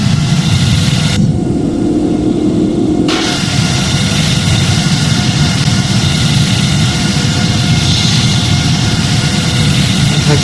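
Boeing 787-9 jet engines spooling to takeoff thrust in the Project Flight video game: a loud, steady, broadband engine roar with a low rumble that holds throughout.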